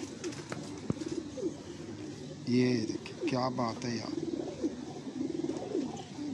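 A pigeon at a pigeon club coos in soft rolling bursts close by, mixed with cage rustling, while someone talks over the sounds.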